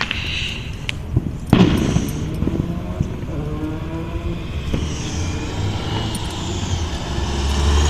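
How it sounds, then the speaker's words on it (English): Fourth of July fireworks pop and boom at a distance, with one sharper crack standing out, over a steady outdoor rumble that sounds like passing traffic. "that's actually fireworks"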